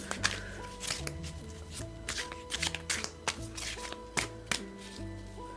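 Tarot cards are shuffled by hand for a reading, with repeated crisp riffles, slaps and soft taps in irregular bursts, close up over a faint background hum and no speech.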